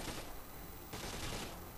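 Rapid automatic gunfire bursts from the Splinter Cell Conviction video game, dense and continuous across two quick volleys with a brief break between them, fairly quiet overall and free of speech.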